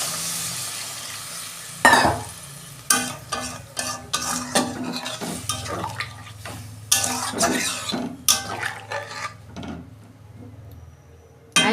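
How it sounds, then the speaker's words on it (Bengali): Potato and pointed gourd curry sizzles in a pan as water is added, with repeated sharp scraping and clanking from stirring against the pot over a soft background hiss. "আমি পরিমাণ মতো জল দিচ্ছি।"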